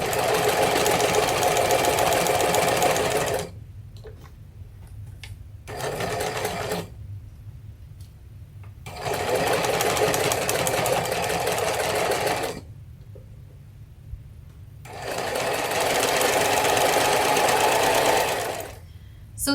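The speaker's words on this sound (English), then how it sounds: "we'll pin here and sew all along here." A sewing machine stitches quilt block seams for a cathedral windows tote, running in three steady, loud whirring bursts with short quiet pauses in between.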